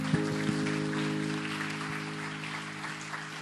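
Church youth worship service audience clapping to welcome newcomers, a steady even patter over a low sustained hum, fairly close and continuous.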